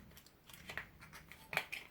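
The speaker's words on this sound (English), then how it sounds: "You can widen it by taking a snip and then using the pliers," Snips cutting into an aluminum can while widening a hole for a scrap-can rocket motor; a few faint, sharp metallic snips and clicks spaced irregularly, close and quiet, no talk.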